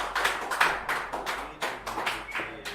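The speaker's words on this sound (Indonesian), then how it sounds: "Tepuk tangan dulu dong." Audience clapping to welcome a guest onto a stage at a Gojek community meetup in Makassar, a thin, uneven patter of separate claps from a modest group, close and fairly quiet.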